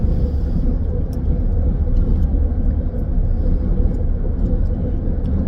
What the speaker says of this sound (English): So I've got this biker guy riding next to me.